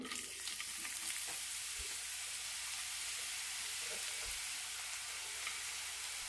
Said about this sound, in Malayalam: ഒരു ടേബിൾ സ്പൂൺ എണ്ണ എടുത്തിട്ടുണ്ട് ഇതിലേക്ക് സവാള ഇടാം